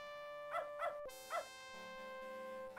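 Short whimpering yelps from the dog Spunky in the video game Beneath a Steel Sky, four quick cries spaced over a steady synthesized music backdrop with a sharp click midway.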